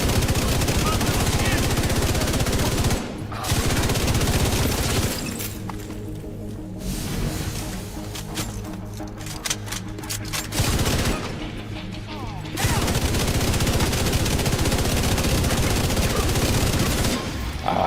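Heavy automatic fire from an exotic light machine gun in a shooter video game, long sustained bursts with short pauses, loud and close, mixed with impact crashes and a voice talking over the shooting.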